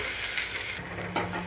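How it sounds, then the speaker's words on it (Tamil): Chopped onions and green chilli frying in oil in a pan, a steady close hiss of sizzling with a soft scrape of stirring partway through. "பாருங்கள், வெங்காயம் நல்லா வதங்கிடுச்சு"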